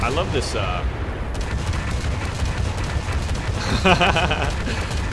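A KV-2 heavy tank in War Thunder fires armor-piercing rounds amid continuous rumbling battle noise, with dense booms and gunfire layered throughout and a sharper burst near the end, while someone talks over it.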